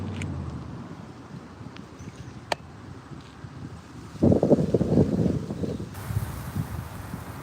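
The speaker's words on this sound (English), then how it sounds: "Got some good wind coming in here." Wind gusts across the microphone at an outdoor carp pond, giving a low rumbling buffet. It swells into a stronger, louder gust midway, then eases, with faint rustling underneath.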